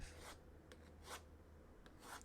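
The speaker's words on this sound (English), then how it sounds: "Scraping the knife" A knife scrapes across a leather pad in quiet, close strokes, three or four short rasping passes spaced about a second apart with soft rubbing between them.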